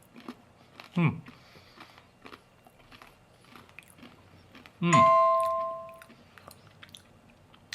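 A phone chime rings once with a sustained tone that fades over about a second, after an earlier short thump and faint crunching.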